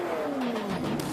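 A loud, close race car engine on VP fuel revs above 6,000 RPM and screams through a Borla exhaust, pitch sliding downward over about a second.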